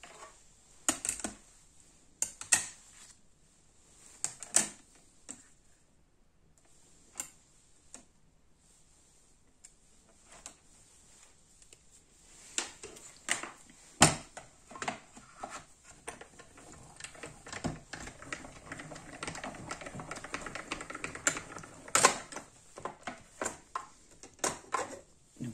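Paper being cut for a scrapbook album page, a string of small crisp snips and ticks, sparse at first, then denser, close and fairly quiet, with no speech.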